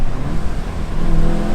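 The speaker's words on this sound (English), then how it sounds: "You guys can listen to the engine noise." A Seat Leon Cupra 300 engine revs steadily close up, a dense, throaty roar with a low droning pitch that holds loud throughout.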